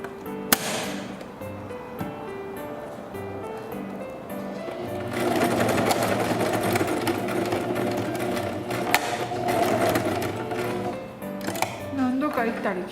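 A sewing machine stitches elastic onto a small dog's apron skirt, running in steady bursts back and forth with brief pauses, close and loud, while someone talks over it.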